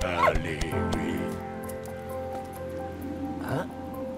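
A dog in the video game Valiant Hearts: The Great War whimpers and gives a few short yips and barks, mixed with in-game sounds and music while a person talks over it.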